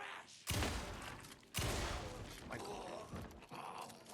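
An automatic shotgun fires in the video game Alan Wake 2: two sharp, loud blasts about a second apart, then quieter follow-up bangs with low groaning in between.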